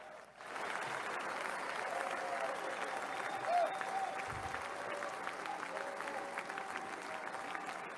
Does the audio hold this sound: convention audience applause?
yes